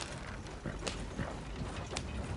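A horse's hooves clip-clop steadily in Red Dead Redemption 2, a continuous rhythmic clatter of steps heard up close against a dense, busy background.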